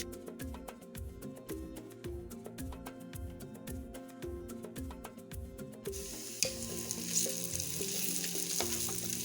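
Onions frying in oil flavoured with anise seeds make a steady close sizzle over a rhythmic musical backing, and the frying swells louder and brighter partway through.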